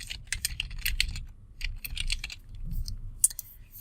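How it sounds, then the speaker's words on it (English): Quick, uneven typing on a computer keyboard, close up, with crisp key clicks in bursts over a low background hum. "I'm typing in all of these responses"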